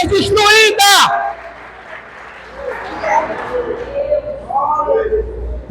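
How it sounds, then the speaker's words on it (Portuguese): A church congregation applauds during an evening service. A loud preacher's voice comes first, then a softer, diffuse spell of crowd clapping with scattered voices and murmurs in the room. "Você pode aplaudir o Senhor nessa noite?"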